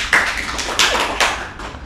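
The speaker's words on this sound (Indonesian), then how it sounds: "Tepuk tangan untuk Steven." Short bursts of applause for Steven at a comedy talk show, three sharp onsets of clapping about 0.4 seconds apart fading between, fairly loud and close with no talk over them.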